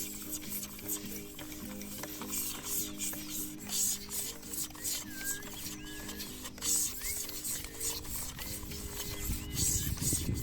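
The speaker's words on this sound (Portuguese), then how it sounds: "Depois, começa o processo de raspagem das taquaras." Dried taquara bamboo stalks being scraped to strip off the bark, a steady rasping rub that repeats throughout over a low continuous background drone, with no talking.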